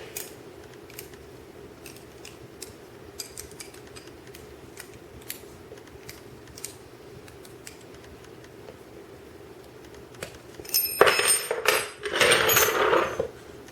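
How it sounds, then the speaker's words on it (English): Two wrenches tighten a homemade metal dog collar on a pit bull: small scattered metallic clicks and ticks, then a louder burst of clanking and scraping metal near the end, with no talking. "I'm going to use a wrench, a couple of wrenches actually"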